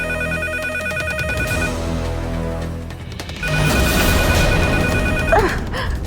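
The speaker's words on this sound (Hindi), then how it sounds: "ये पागल खाने वाले लैंडलाइन पे फोन कर रहे हैं" A landline telephone rings indoors in a steady electronic pattern, pauses briefly, then rings again more loudly, with a short breathy sound near the end.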